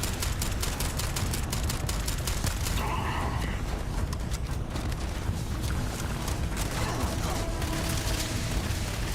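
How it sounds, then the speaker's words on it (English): A grenade launcher in the space game Starfield fires amid a dense, continuous barrage of combat noise, with repeated sharp blasts and booms crowding the whole stretch at close range. "Oh, it's a grenade launcher."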